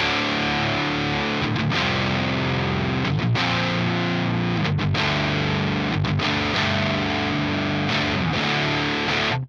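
Heavily distorted electric bass playing a riff through a Fuzz Imp Furia distortion pedal, loud and gritty with thick sustained tone and brief rhythmic breaks between notes.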